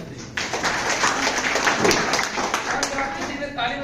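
A seminar audience applauding, a dense wash of many hands clapping that swells and holds for several seconds, with a voice speaking over it.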